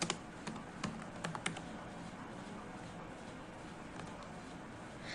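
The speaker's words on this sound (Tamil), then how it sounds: "ஸோ உங்கள் ஸ்கூல் நேம் வந்து டைப் பண்ணுங்கள்." Quiet typing on a computer keyboard, a cluster of crisp keystroke clicks at the start followed by sparse taps over a low room hiss, with no talking.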